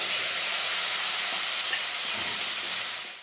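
Dal added to a hot pan of spices for Saoji dal kanda, producing a loud, dense sizzling hiss that fades out at the end, no voices.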